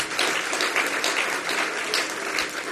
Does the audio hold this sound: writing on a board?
no